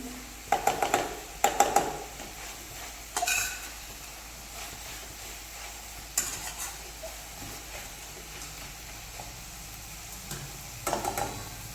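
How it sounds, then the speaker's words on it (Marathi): Methi bhaji (fenugreek leaf dish) stirred in a pan over a medium gas flame: a soft, steady sizzle broken by a few short scraping bursts of the spoon, with no voices. "इथे थोडीशी गॅसची फ्लेम मिडियम केली आहे जी लो होती ती आता हे सगळं व्यवस्थित मिक्स करून घ्यायचे"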